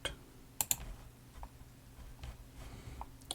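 A few sharp, close clicks, two quick ones together, then scattered softer taps, sounding like a computer mouse or keys being pressed at a desk.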